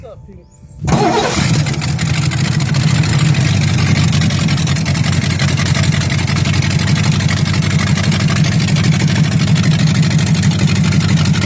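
A 1970 Lincoln Continental Mark III cranks briefly and catches, then settles straight into a loud, steady, rumbling idle that holds unbroken to the end.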